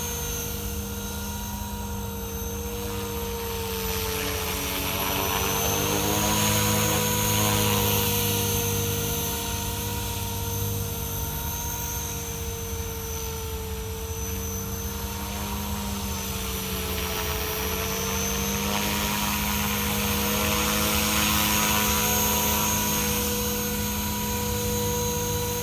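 A Blade 500X RC helicopter flies in stunt mode, its rotor and motor whine steady and loud with pitch rising and falling as it climbs and maneuvers, no voices over it.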